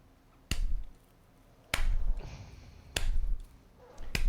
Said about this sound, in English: This is slow clap.